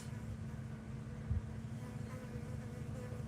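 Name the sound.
bee buzzing loudly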